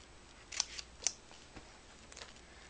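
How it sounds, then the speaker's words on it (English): Scissors cutting slits into a homemade Harry Potter prop book, a few quiet crisp snips spaced apart in a hushed room. "I'm just going to cut some slits right here."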